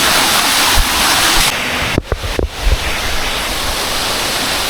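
An outdoor stream at a resort pours in a dense, loud, continuous rush of broadband water noise, with a brief break of knocks and handling sounds partway through and no talk.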